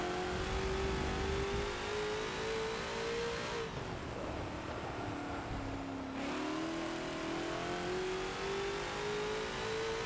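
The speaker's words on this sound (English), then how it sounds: "Watch that Mazda drift through there. That's the diesel." A diesel Mazda race car in Forza, its engine droning loudly and steadily as it accelerates and drifts on the Monza track, pitch dipping briefly mid-pass before climbing again.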